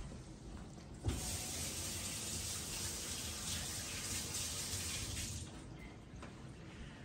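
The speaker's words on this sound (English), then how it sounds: "I got to wash my hands off." Tap water runs in a steady gush as hands are washed at a kitchen sink during preparation of a chocolate chip cheese log. The flow starts abruptly and continues evenly, then cuts off shortly before the end.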